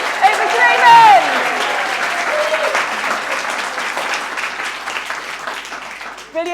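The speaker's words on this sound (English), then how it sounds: "After 3, start the applause." Prompted applause from a coaching conference audience, a loud, dense rush of clapping with cheers and a shout near the start, then sustained steady clapping that eases slightly toward the end.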